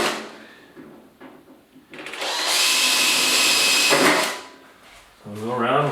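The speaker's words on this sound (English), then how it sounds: "We'll go around, we'll drill our holes." A power drill boring 7/64 inch pilot holes while LED shop lights are installed, whining steadily for about two seconds at close range between quieter handling sounds, with a voice talking near the end.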